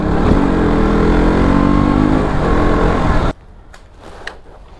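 KTM RC200 motorcycle riding, a loud continuous engine roar with wind rush that cuts off abruptly near the end, leaving quieter background sounds.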